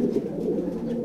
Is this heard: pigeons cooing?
yes